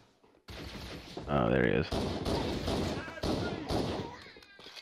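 Rapid gunfire in Halo: Combat Evolved on The Pillar of Autumn stage comes in loud repeated bursts mixed with a warbling weapon effect, while someone talks briefly over the shooting.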